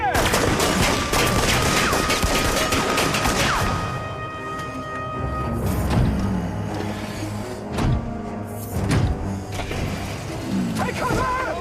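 Gunfire rings out in a period drama, a dense volley of overlapping shots followed by scattered loud bangs, metallic clangs and impacts amid shouting voices.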